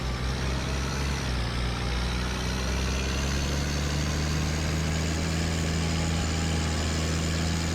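A tractor engine in the Farming Simulator 19 video game hums continuously at a steady, loud, even drone with no breaks.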